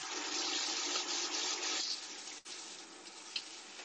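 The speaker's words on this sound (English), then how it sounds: "I'm just going to drain that through some water and I'm going to put it into my dish." Water pours and drains through rinsed jasmine rice in a kitchen, a steady splashing rush that softens partway through, with a brief gap and a small clatter near the end.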